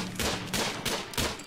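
Gunfire in the video game RimWorld: a few rapid, loud, close shots crack out in quick succession in a short burst.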